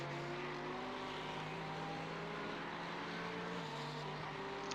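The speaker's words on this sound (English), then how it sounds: "That Lambo just braked." A Lamborghini race car slows under braking at Sebring during a 12-hour endurance race, its engine note dropping in pitch as it decelerates, loud and steady over background track noise.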